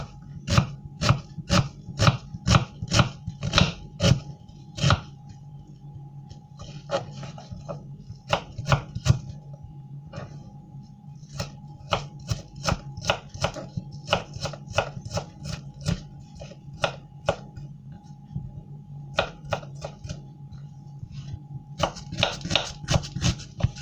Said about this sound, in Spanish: Ahora voy a picar la cebolla en cubitos.